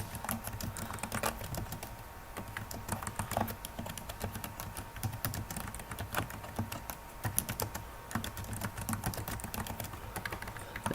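Computer keyboard typing, a steady stream of close, quiet key clicks at an even pace, continuing alone throughout.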